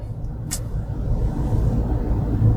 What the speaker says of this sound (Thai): พอยกคันเร่งอ่ะ มันก็จะเป็นเสียงของ ยางฮะ